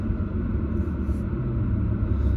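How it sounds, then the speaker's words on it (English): A car being moved gives a steady, fairly loud low engine rumble that holds evenly for the whole stretch with no break. "I'm just moving the car real quick"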